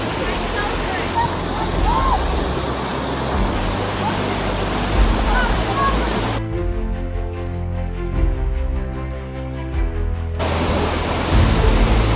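Rushing river water at a river crossing in Eel Valley, a loud, dense broadband roar close by that runs throughout, briefly muffled and altered in the middle as if the microphone were covered or submerged.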